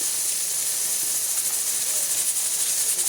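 Lamb brain masala yellowed with turmeric sizzles steadily in a pan, a loud continuous bright hiss of frying with no pauses and no voices.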